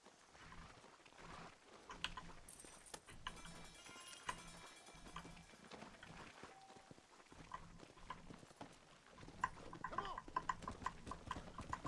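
Horse hooves clip-clopping in Red Dead Redemption, a steady run of quiet hoofbeats with soft music and a voice talking now and then.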